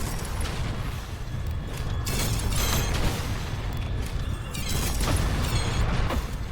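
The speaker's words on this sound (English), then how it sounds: "they have these like squeaking sound effects" Squeaking electronic sound effects from a new enemy in the fast-paced FPS video game ULTRAKILL, heard amid dense continuous game noise with mechanical clanks and booming bursts throughout.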